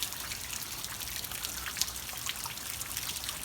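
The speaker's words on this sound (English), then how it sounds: "What a beautiful rainy day it is in Florida." Steady rain on a wet Florida day patters and trickles continuously, a soft, even wash of drips and runoff with no voices.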